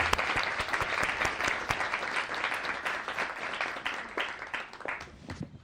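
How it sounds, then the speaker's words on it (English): Dense audience applause at a World Food Day celebration, a full, continuous roar of many hands clapping that holds steady and then tapers slightly at the end. "Please give her a round of applause."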